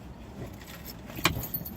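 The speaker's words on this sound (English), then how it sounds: "I'm gonna show you the keys." Ford car keys jangle in the hand, a short metallic rattle with one sharp clink and a few lighter taps after it, heard close with no talking.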